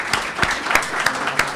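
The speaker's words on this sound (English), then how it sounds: "can we all stand and give the CB Group a round of applause for their selfless contribution to our nation?" Standing audience at a university 5K race launch event applauding a corporate sponsor: a brief burst of clapping with a few distinct, evenly spaced claps standing out over a thin background patter.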